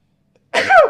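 After half a second of silence comes a single sharp, loud sneeze-like burst close to the microphone, breathy and abrupt, with no talking around it.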